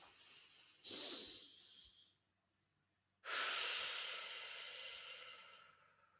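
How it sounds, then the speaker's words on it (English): Two deep breaths taken together by a group, a long inhale followed after a pause by a louder, longer exhale, close and alone with no talk. "shall we take a breath? Let's take a breath."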